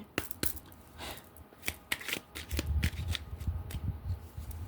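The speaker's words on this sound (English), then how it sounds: "Let's shuffle." A Gaia oracle card deck shuffled by hand, with a series of quick, crisp riffling and flapping bursts close by in a quiet room, no voices.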